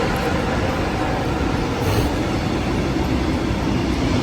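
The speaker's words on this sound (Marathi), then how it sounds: "मोठी ट्रेन आहे." A long train rolls past close by in Germany, a loud, continuous rumble of wheels and wagons holding steady throughout, with no clear speech over it.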